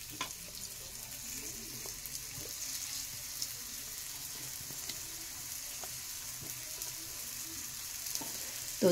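Litti frying gently in a lightly heated appe pan over a low flame: a soft, steady sizzle that stays faint and even throughout, with a few small ticks and no voices.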